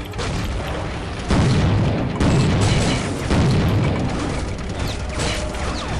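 Shotgun blasts and booming gunfire in the shooter game Soldier of Fortune, a dense run of heavy, loud blasts and impacts overlapping each other across the whole stretch, with no talking.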